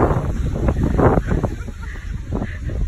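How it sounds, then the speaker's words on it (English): Gusty wind buffets the microphone on a sunny beach, a loud uneven low rumble that swells and eases, with faint surf in the background. "It is windy, sunny, and nice."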